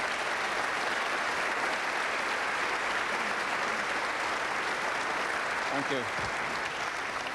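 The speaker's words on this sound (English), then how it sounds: "Give her a round of applause," Audience applause fills a 1994 snooker comedy trick-shot show as a volunteer comes up, steady and dense throughout, with a brief spoken thanks near the end.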